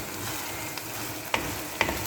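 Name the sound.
minced meat frying and stirred in a kadhai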